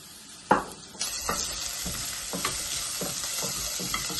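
Chopped ginger, garlic and green chillies fry in hot oil while being stirred: a steady bright sizzle that swells after a sharp first knock, with periodic spoon scrapes at a slow regular pace, close and alone.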